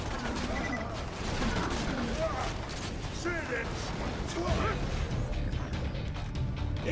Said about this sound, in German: Der Kerl explodiert mehrfach.